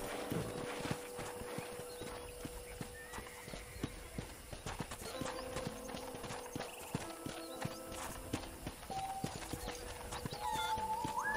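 Horse hooves clip-clop steadily in the emulated video game Red Dead Redemption on a ranch property, a continuous walking rhythm under game ambience and music, moderately close.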